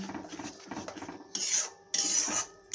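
Spice paste being stirred in a cooking pan for potol dorma, a scraping, rasping sound of utensil against pan coming in two loud bursts after quieter stirring.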